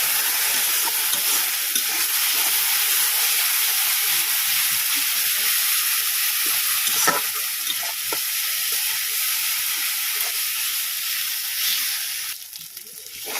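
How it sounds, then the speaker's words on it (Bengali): Onion frying with ginger-garlic paste, turmeric and cumin powder in a pan for katla fish kalia, a steady loud sizzle with stirring scrapes, continuous throughout and fading slightly at the end; no talk. "মশলা কষা হয়ে গেছে"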